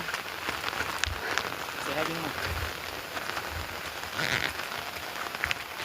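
Steady rain patters down on a surface, with scattered louder drops and faint voices murmuring in the background.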